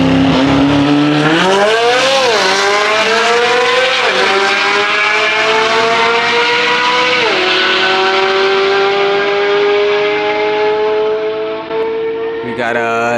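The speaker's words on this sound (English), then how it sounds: "So, this Z06 sounds absolutely insane." A Corvette Z06 with an aftermarket exhaust accelerates hard in a drag race, loud and close, its engine note climbing through several gear changes with rising, dropping pitch before fading slightly at the end.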